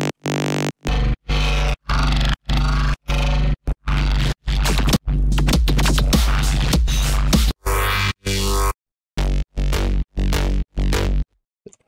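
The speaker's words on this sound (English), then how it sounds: "Right now, I gotta make a sustain bass." A synthesized sustained bass for a heavy midtempo electronic track plays as a series of loud, deep held notes, separated by short silent gaps, with a denser stretch in the middle.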